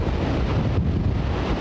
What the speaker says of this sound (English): here comes one of those gusts again